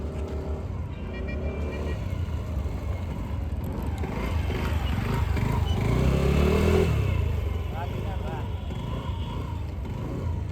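A Honda Activa scooter ridden during an RTO-style driving test challenge, its engine droning steadily, then swelling louder as it passes close around the middle before easing off, with people talking over it.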